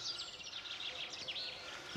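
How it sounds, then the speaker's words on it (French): Faint birdsong outdoors in the morning at a rural home where horses are kept: quick high chirps and trills repeating in the distance over a soft background hush. "Entendre les oiseaux, être chez soi"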